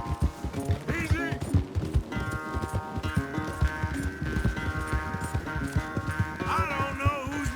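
Hooves pounding in a fast, rhythmic gallop during a horse race in Red Dead Redemption 2, close and steady, with voices and a musical tone layered over the hoofbeats.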